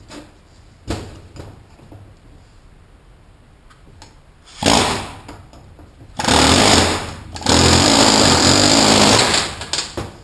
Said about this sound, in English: But an air hammer is faster.